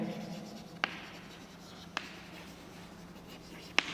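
Pen or marker writing out a determinant expansion in an NCERT maths lesson, a soft continuous scratch with three sharp taps spaced about a second apart, close and quiet, no talking.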